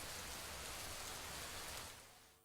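Heavy monsoon rain pours down steadily in Kodagu, a dense, loud hiss of drops on surfaces that fills the whole stretch before easing slightly at the very end, with no voices.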